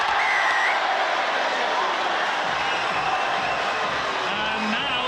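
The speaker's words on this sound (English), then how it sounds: "And now St Helens supporters are cheering." St Helens rugby league supporters cheer in a stadium against Hull, a steady, broad roar of crowd noise and applause filling the whole stretch without pause.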